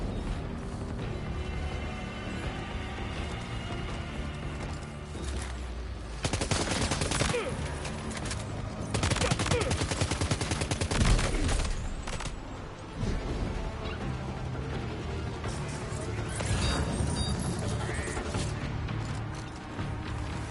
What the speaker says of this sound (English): Damn, it was a lot of shots.